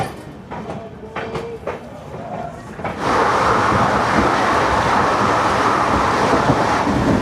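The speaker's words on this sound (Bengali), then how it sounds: "ট্রেনটা এত স্পিডে বেরিয়ে চলে গেল বুঝতেই পারলাম না" An Amrit Bharat Express rushes past at speed near Madhupur Junction, the quieter platform hubbub with a few sharp clicks giving way to a sudden loud, sustained roar of the passing train.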